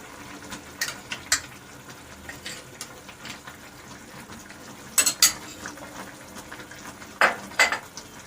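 Boiled potatoes being stirred with a prepared spice mix in a cooking pot for a green coriander potato curry, giving a few sharp spoon-on-pot clinks and scrapes over quiet background.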